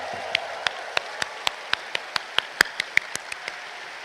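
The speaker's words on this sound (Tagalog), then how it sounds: "itaas uli ang kamay at pumalakpak ng mas malakas" Congregation clapping at a Quiapo Church Mass during the Nazareno Traslacion, heard as a series of sharp, evenly spaced claps about every third of a second, distinct and fairly close over a quiet background.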